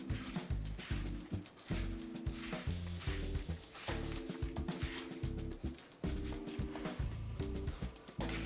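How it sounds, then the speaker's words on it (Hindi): Marinated chicken wings are mixed by hand in a bowl, with wet squelching and rubbing sounds and soft irregular knocks, close and steady throughout, with no talking. "We'll give the wings a good massage."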